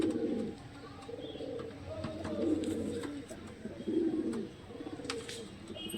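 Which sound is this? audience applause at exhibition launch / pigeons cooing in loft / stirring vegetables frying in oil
pigeons cooing in loft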